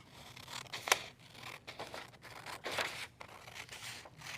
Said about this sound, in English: I'll grab a pair of scissors and cut out every screen